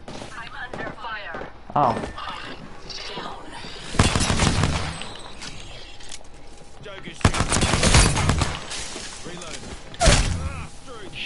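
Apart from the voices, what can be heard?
gunfire in the video game Apex Legends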